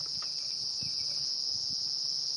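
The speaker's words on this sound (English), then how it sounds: "cicadas have come out of the ground, some of them, and you can hear them calling." Cicadas freshly emerged from the ground after light rain call on a safari drive, a loud, continuous high-pitched buzzing drone that holds steady throughout with no pauses.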